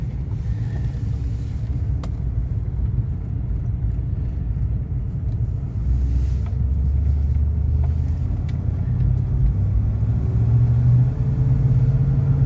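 A 1976 Cadillac Coupe Deville, a big 18.5-foot car, cruising down a residential road toward a cul-de-sac, its engine giving a steady low rumble heard from inside the cabin, slowly swelling near the end.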